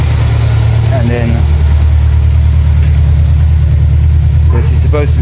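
A Renault 5 with a leaking exhaust box idles in a steady, loud, low rumble that continues throughout, while a voice briefly speaks over it.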